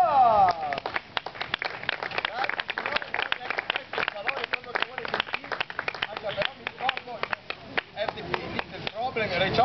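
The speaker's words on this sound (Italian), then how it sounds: "facciamo un applauso, un big applauso for Ray Charles!" A crowd claps for Ray Charles on stage with the Blues Brothers, dense sharp hand claps in an uneven flurry, with a voice talking over the clapping throughout.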